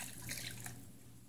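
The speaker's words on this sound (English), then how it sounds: "1 cup of hot water in here." Hot water poured into a bowl of padek sauce with whole tamarind seeds, a steady close splashing pour lasting about a second with no talk over it.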